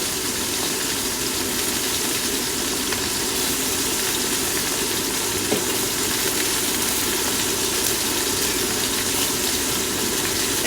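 Sausages sizzle in a pan on a stovetop, a steady dense crackling hiss that runs without a break from start to finish and stays close and fairly loud, with no talking over it.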